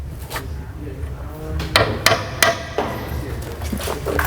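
Sharp metallic hammer strikes driving a pop rivet center pin out of a Volkswagen MQB chassis rear suspension part, several loud close hits spaced irregularly with clanks between them.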